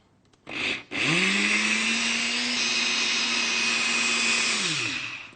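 A blender whirs up a Kit Kat milkshake made with crushed Kit Kat pieces. After a brief start-stop it holds a loud, steady motor drone for about four seconds, then winds down.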